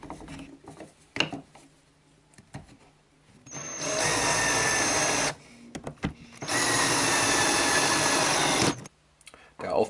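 Power drill driving screws into a wood router-table insert plate for a Bosch POF 1400 router lift: two sustained, loud whirring bursts of several seconds each, with softer handling clatter between and before them.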